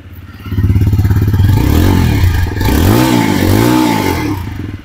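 Engine of a TVS Apache RTR 160 4V motorcycle, black edition, revving up from idle in repeated rising and falling surges, loud and close with a deep bassy exhaust note and no talking.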